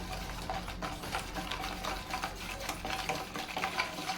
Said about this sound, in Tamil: லைட்டாக ஒரு தடவை கலந்து விட்டுக்கலாம்